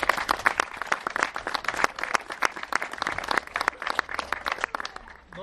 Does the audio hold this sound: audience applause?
yes